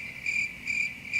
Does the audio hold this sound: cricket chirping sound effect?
yes